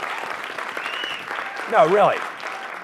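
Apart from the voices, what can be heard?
audience applause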